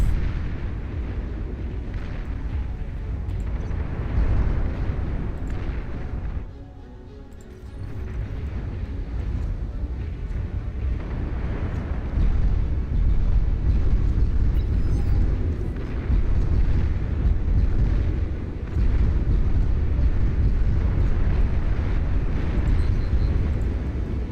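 Torpedo launcher explosions in the real-time strategy game Beyond All Reason, a dense, continuous rumble of booms and blasts layered over one another, loud throughout with a brief dip before resuming.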